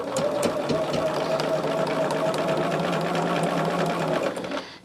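A sewing machine machine-binds a small quilt made from fabric scraps, running steadily and close up for several seconds before slowing to a stop, with a faint voice underneath.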